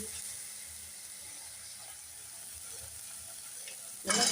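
Spiced masala with turmeric for aloo dum being stirred and fried in a pan: a faint, steady sizzle and hiss throughout, ending in a sudden louder burst of sizzling.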